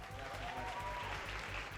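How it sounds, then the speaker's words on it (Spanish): An audience at a panel discussion applauds a speaker, with steady, fairly faint clapping from a modest crowd heard from a distance, continuous and even throughout. "Un aplauso para Arturo."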